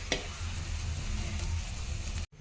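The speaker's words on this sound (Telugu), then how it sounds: "నూనెలో ఫ్రై చేసుకోవాలి" Mutton frying in oil in a pan for a gongura curry, a steady dense sizzle that holds close and loud for about two seconds before cutting off abruptly near the end.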